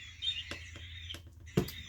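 Faint, high bird chirps come in brief scattered bursts outdoors, with a few soft taps and knocks underneath.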